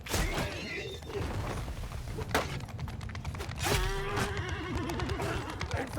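A horse whinnies amid a medieval battle in Mount & Blade II Bannerlord, sharp neighs cutting through clattering, creaking combat noise and hoofbeats, with a voice talking faintly beneath.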